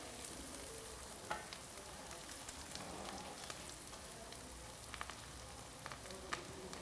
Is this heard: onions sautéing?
yes